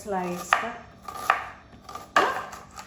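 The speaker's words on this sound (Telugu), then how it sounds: "ఇప్పుడు ఆనియన్స్ కట్ చేసుకుంటున్నాను." A knife cuts onions into long slices on a board for spring roll filling, three sharp, well-spaced chops ringing out close and clear with quiet gaps between.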